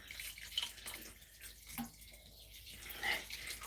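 Water poured over freshly planted cuttings in a garden, a soft trickling and dripping splash that runs steadily and fairly faint throughout, with no talk.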